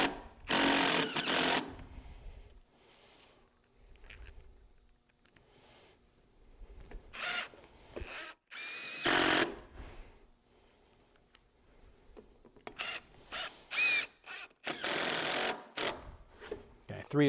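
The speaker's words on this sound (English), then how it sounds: "when you put the screws through the post cap, you do want to make sure that you're putting the screw through the cap" Screws are driven through a metal post cap on a modern pergola kit with a power driver, heard as several loud bursts of buzzing whir separated by quieter stretches, close by.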